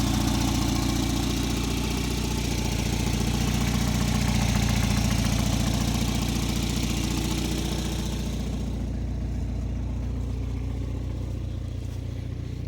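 Engine of a Volvo 940 Turbo idling with the hood open, a steady low rumble that holds evenly close by, its upper hiss dropping away partway through.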